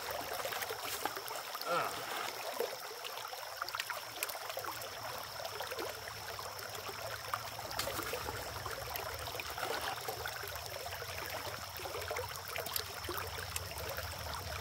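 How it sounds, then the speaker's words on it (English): Water is added to a bucket of hard, concrete-like pay gravel and stirred during gold prospecting, making a steady, close sloshing and rushing that continues through the whole stretch. "Add some water, get it stirred up."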